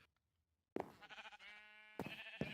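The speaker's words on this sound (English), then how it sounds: "And now it's an actual sheep farm." Sheep bleat on a sheep farm in Minecraft, several wavering calls in quick succession after a moment of silence, close and clear with no talking.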